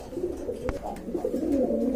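Soft, rolling cooing from a pair of white Danish pigeons carries on without pause, close and moderately loud, with a single sharp knock partway through and no voices.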